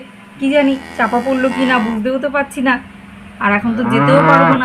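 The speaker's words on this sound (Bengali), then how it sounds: "গরুগুলো দেখো কেমন ডাকছে।" Cartoon cows mooing in a storm, their low calls heard up close and partly under steady talk from a voice throughout.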